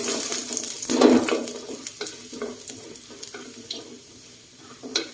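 Garlic frying in a pan for a Thai stir-fry of kale with canned fish, with close sizzling and stirring scrapes, one louder burst near the start and then steady crackle.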